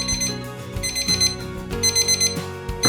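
A kitchen timer alarm goes off after rice cooking on a stovetop, beeping in a steady, rapid electronic pattern, loud and close, with no voices.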